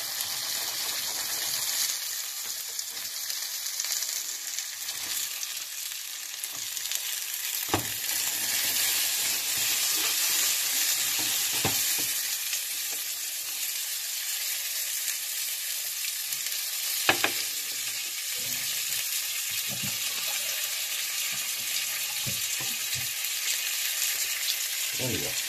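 Gyoza fry in a covered pan after water is added, giving a steady loud sizzle and hiss with occasional crackles and pops throughout, close up.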